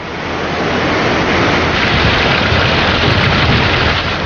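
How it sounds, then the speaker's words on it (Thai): Seawater overflows from the sand-filled hold of a dredger ship at sea, a loud, steady rushing wash of water that holds constant throughout with no voices. "ทรายหนักจะจมลงไปที่ก้นท้องเรือ แต่น้ำทะเล จะเอ่อล้นออกไป"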